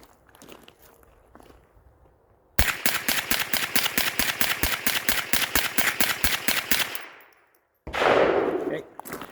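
Rapid string of about nineteen sharp .22LR shots from a Smith & Wesson 1522 rifle with a CMMG conversion kit, fired in quick, even succession outdoors, loud and close, stopping abruptly, followed by a brief burst of noise.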